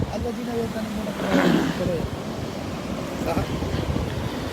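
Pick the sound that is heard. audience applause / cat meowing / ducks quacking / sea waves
sea waves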